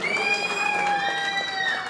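A crowd at a movie pre-release event claps and cheers loudly for the director, with whistles and shouts ringing over the steady applause.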